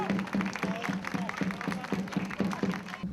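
Audience applauding a prize winner at a Muchik dance festival in Huamachuco, a fairly quiet, distant patter of clapping mixed with a steady rhythmic drum beat and crowd noise.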